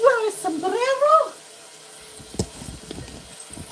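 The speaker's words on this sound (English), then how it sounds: "Sorry about that noise. It's the pan in the sink." A pan being washed in a kitchen sink under running water, with soft clattering and scrubbing knocks that follow a brief stretch of voice, fairly close.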